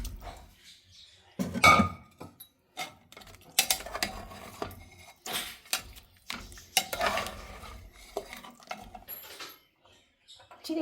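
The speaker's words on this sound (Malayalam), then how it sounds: "ഇനി നമുക്കിതിലേക്ക് മട്ടൻ ഇട്ട് കൊടുക്കാം." Mutton going into a pot of cooked-down masala for a green chilli mutton kurma, with scattered clanks and scrapes of a spoon against the pot and bursts of stirring and shuffling, separated by quiet gaps.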